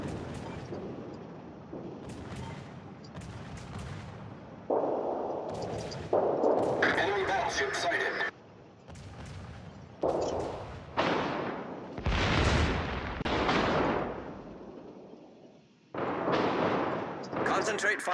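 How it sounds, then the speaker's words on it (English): Naval gunfire in the game World of Warships, heavy booming salvos and blasts coming in separate bursts, some long and rumbling, with game radio chatter in between. "All stations, concentrate fire on the target."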